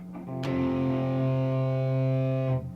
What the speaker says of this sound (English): Power chords sound so much better when you're distorted.